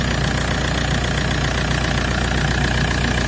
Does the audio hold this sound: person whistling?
no